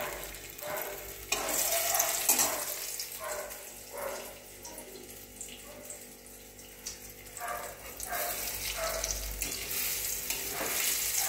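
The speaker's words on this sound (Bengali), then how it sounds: "তেলটা একটু লোতে দিচ্ছি, দিয়ে আস্তে করে আমি বড়াগুলো ভেজে নিচ্ছি।" Chhana (cottage cheese) fritters dipped in gram flour batter fry in oil over low heat, giving a steady close sizzle with occasional stirring scrapes throughout.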